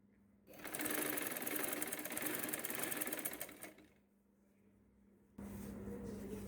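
A sewing machine stitches a saree blouse in a fast, loud, continuous whir that slows and stops, pauses briefly, then starts up again.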